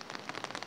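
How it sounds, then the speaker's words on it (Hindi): Heavy rain pours steadily in a hillside mountain village with apple orchards, a dense, even patter of drops close around without a break. "बात करूँ अगर बारिश की, तो बारिश जो है बड़ी गिर रही है, मगर तेज़ बारिश गिर रही है।"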